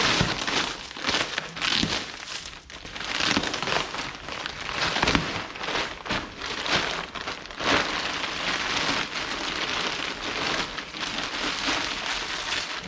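New beige car carpet packaging is ripped open during a VL interior restoration, giving dense, continuous crinkling and tearing of plastic. It is close and fairly loud, with no voices.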